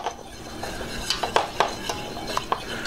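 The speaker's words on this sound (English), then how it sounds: "So just keep mixing it." A utensil stirs creamy polenta with heavy cream in a pot, giving soft scraping under a series of sharp metallic clinks against the pot's sides, close and without talking.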